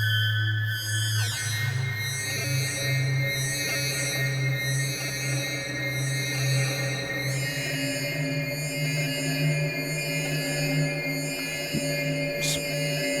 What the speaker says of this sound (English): This is a standard large Hall reverb.